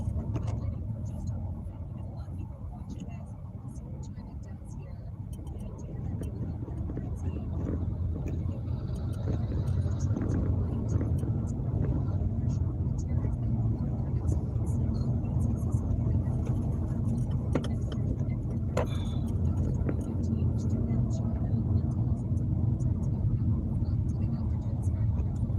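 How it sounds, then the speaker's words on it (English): Steady low rumble of road traffic heard from inside a car stuck in congestion, a continuous drone filling the whole stretch while someone talks over it. "Still in traffic as usual."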